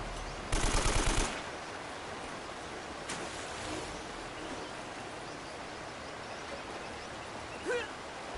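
Gunfire in Uncharted: Drake's Fortune: a short rapid burst of automatic shots near the start, then a lone distant shot, over a steady rushing wash of water-like noise.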